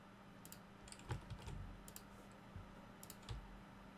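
Keyboard shortcuts are tapped out on a computer keyboard in quick, irregular clusters of clicks, faint and close, with no voices.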